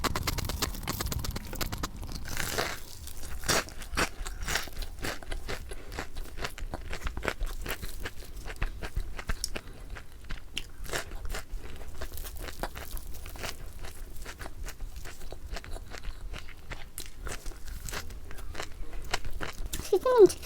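BBQ butter crunch fried chicken crackles under repeated close bites, a long run of sharp, irregular crunches and chewing snaps up close, with faint talking mixed in.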